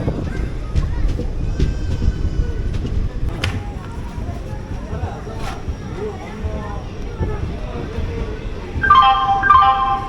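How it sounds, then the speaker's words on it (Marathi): A local passenger train rumbles low and steady while voices murmur faintly, and a horn-like tone sounds briefly near the end. "ही कर्नाटकची लोकल ट्रेन, जसं आपल्याकडं महाराष्ट्रामध्ये मेमू असते ना तशी."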